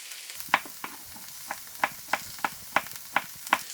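Sharp repeated clicks and sizzling pops, about ten in a few seconds, come from capsicum frying in a pan, each crackle distinct above a quiet background.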